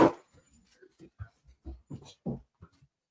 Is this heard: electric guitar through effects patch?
no